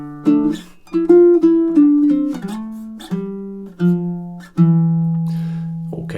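Baritone ukulele picking a melodic riff of single plucked notes, each ringing out and fading, the phrase ending on a long sustained note; clear, close and solo with no talking.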